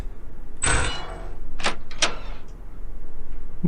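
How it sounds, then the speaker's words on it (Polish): A door opening in the horror video game Dayshift at Freddy's: a sharp mechanical swish followed by two quick bright clanks, loud and close, with no talk over it. "drzwi się otworzyły"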